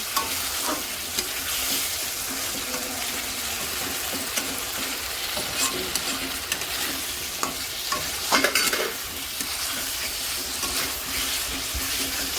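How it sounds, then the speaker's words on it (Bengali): Food sizzles steadily in a hot pan while a spoon stirs and scrapes through it in uneven strokes, a continuous close frying hiss with a brief louder clatter partway through. "এবার ভালো করে মিশিয়ে নেব।"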